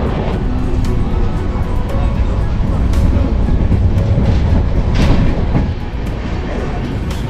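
Broadband rumble and steady rattling of a train running on the rails from Howrah toward Jhargram, loud and continuous throughout, with clanks and faint rushing noise, no talk.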